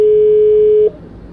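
A single steady telephone tone sounds loud and close while a call is placed, then cuts off abruptly partway through and leaves quiet room noise.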